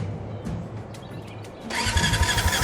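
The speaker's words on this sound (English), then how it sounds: "Let's give that engine a spin." An engine in the Brassheart video game is cranked and fires up partway through, a brief sputter giving way to a steadier, louder running drone with low pulsing, heard alone.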